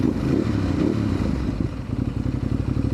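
A Ducati DesertX motorcycle engine rumbles and revs on an off-road ride at an adventure camp, loud and close, with a deep throbbing note that shifts pitch as the throttle changes.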